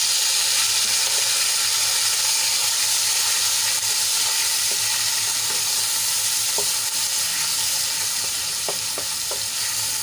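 Grated onion and slit green chilies frying in oil in a pan, a loud, constant hiss and sizzle with occasional small pops and a faint stir, no voices over it.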